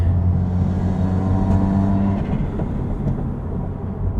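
A pro-tuned Subaru WRX on a cold canyon road gives a steady, loud engine drone that eases slightly midway, with no distinct exhaust pops standing out.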